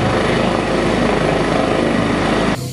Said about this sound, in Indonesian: Ini adalah mainan helikopter teman-teman, warna merah atau helikopter red color.